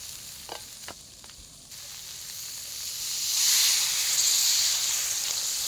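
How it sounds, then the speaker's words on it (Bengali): Water poured into crab curry frying in a pan sets off a rising hiss of steam and sizzle that swells and holds after a few soft clatters. "এখন আমি কাঁকড়ার মধ্যে দিয়ে দেবো জল"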